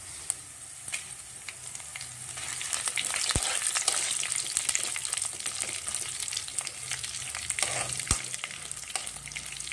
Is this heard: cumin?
yes